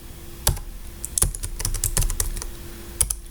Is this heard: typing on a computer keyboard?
yes